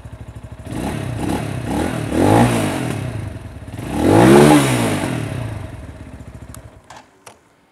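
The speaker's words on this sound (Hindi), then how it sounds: "चलिए अब इसे फायर अप करते हैं और इसकी साउंड भी सुन लेते हैं कि साउंड कैसी है इसकी।" A Kawasaki Ninja 300 replica, 250cc single-cylinder, idles close by then gets two strong throttle blips, pitch rising and falling each time before the engine cuts off, leaving a few faint clicks.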